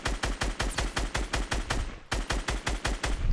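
Rapid automatic gunfire in a video game, a steady stream of loud repeated shots with a brief pause near the middle before the firing resumes, with no talk.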